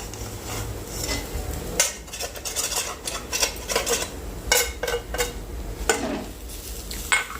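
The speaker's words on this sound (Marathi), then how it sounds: "तुपामध्ये छान हे ओलं खोबरं आहे ना तर थोडंसं परतून घेते" Ghee-coated fresh grated coconut and jaggery being stirred and sautéed in a pan, with repeated scraping clinks of a spoon against metal and a soft sizzle underneath, close and fairly loud with no talking.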